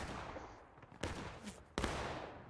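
Artillery and musket fire in a 150-player multiplayer battle video game, two sharp loud blasts about three quarters of a second apart over a constant rumbling din of distant gunfire, with no talk.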